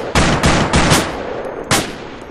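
Rapid gunfire in a military shooting video game set in urban combat: four or five loud, close bursts of shots in quick succession, sharp and punchy, with no speech over them.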